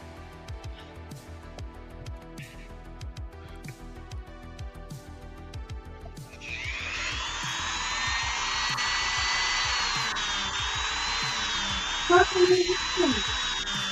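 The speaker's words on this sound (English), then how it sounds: "You're hearing Jared's Dremel." A Dremel rotary tool, used for customizing action figures, whines steadily at high pitch from midway on, sustained and fairly loud, with people talking before it starts and over it.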